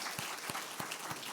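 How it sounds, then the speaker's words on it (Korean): A church congregation at a New Year revival gathering applauds the young adults: a soft, steady wash of clapping with a few louder hand claps standing out, fairly distant and without any voices over it. "우리 청년들 박수 한번 하겠습니다"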